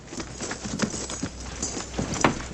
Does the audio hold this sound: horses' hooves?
yes